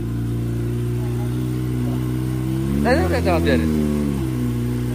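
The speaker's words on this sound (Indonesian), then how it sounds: "Suara knalpot, knalpotnya ini DX generation ya, full system nih, original DX." A motorcycle fitted with an original DX generation full-system exhaust runs at a steady idle with a deep, even burble, then gives a short rev blip midway while someone talks over it.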